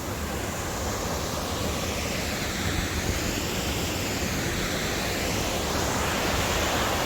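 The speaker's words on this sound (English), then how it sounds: "That's a big waterfall" A steady, dense roar of rushing water fills everything, constant and loud with no pauses, a big waterfall heard up close in the Lost Valley, Glencoe, Scotland, in winter.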